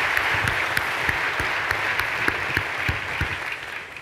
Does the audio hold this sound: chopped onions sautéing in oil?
no